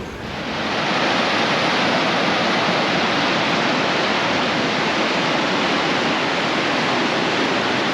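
A raging torrent of river water cuts through a volcanic desert in Patagonia, a loud, dense, continuous roar of rushing water that swells in over the first second and then holds steady, with no voices.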